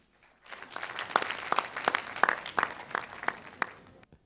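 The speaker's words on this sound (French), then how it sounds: "Applaudissements." Audience applause at a televised Burkina Faso school quiz quarter-final, a burst of clapping that rises after a quiet start, holds steady with sharp individual claps standing out, and cuts off abruptly.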